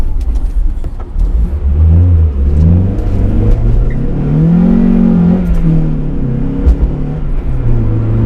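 A Mazda MX-5 Mk1 engine revs up and down loudly and close, rising and falling in pitch while it idles between blips.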